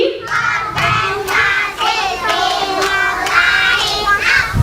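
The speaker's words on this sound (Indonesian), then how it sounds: "Yuk, tepuk konsentrasi." Kindergarten children at an Islamic kindergarten recitation event chant and clap together in a concentration clap routine, rhythmic bursts of young voices in unison with claps between them, loud and close.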